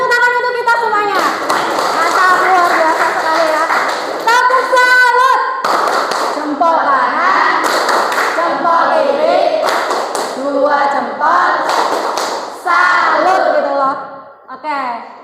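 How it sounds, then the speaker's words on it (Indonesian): Applause in a sixth-grade classroom, many children clapping steadily and close by, with high voices shouting and chattering over the claps throughout. "Beri tepuk tangan untuk kita semuanya"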